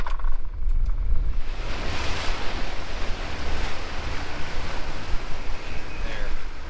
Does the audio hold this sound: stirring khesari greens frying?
no